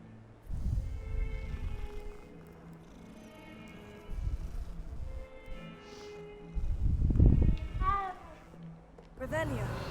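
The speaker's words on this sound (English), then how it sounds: "Another cat." A cat in the Hogwarts Legacy video game gives a rising meow near the end, heard alongside rumbling game ambience and bursts of other in-game sound.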